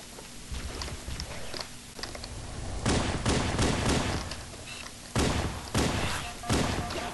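Rapid bursts of gunfire in Halo: Combat Evolved, loud and close, coming in dense clusters with short gaps between volleys, and a bit of speech mixed in.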